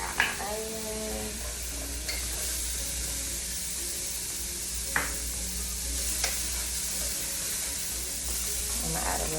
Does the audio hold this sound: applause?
no